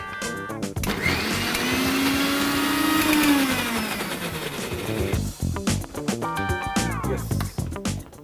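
A mixer grinder whirs loudly as it grinds chili paste with a little water, pitch sagging as the blades load up. The motor then cuts out and restarts in short, choppy pulses with rattling bursts.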